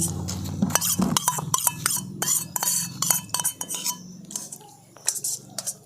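A spoon stirs butter into lightly warm milk in a bowl, making rapid rhythmic clinks and scrapes against the sides, close and continuous, then slowing near the end.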